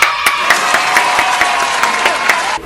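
Steady applause from a crowd of many hands clapping, dense and continuous with sharper bursts of claps standing out, loud and close throughout.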